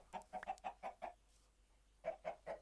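A Minecraft chicken in an FTB modpack clucks in a quick rhythmic series, pauses, then clucks a few more times, faint and close with no talking.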